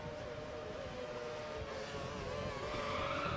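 Race car sliding on the Bahrain circuit in F1 2013, GP2 Series, a steady loud engine whine with tire-scrub hiss held throughout, swelling slightly toward the end.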